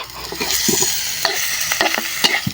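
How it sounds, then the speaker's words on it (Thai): Big frog legs are stir-fried with pepper and herbs for a spicy Thai dish, with close, rhythmic scrapes of a utensil against the pan over a steady sizzle, and no one talking. "ลงไปผัดด้วยพริกไทย"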